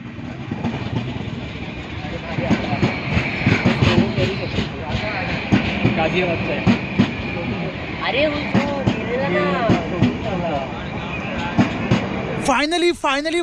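A Konkan Railway express train rumbles past at Kudal station with steady clatter and engine drone, people talking over it, and a sharp horn-like whine rising near the end.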